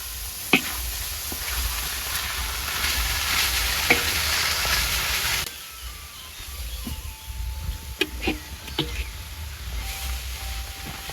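Seasoning paste frying in a pan for stir-fried young papaya, a continuous close sizzle with scattered clicks and scrapes of stirring that drops to a quieter hiss partway through.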